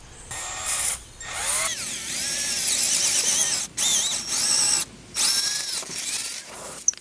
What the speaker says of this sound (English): I have some drills here. I'm going to use the 3/16 bit.